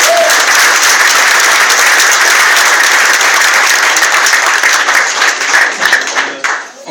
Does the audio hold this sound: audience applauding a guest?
yes